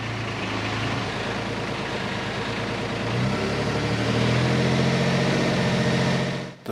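A fire truck's water pump runs on a private rural truck drawing from an off-grid water supply, a loud, steady engine drone that rises slightly in pitch partway through as it warms up, then cuts off abruptly at the end.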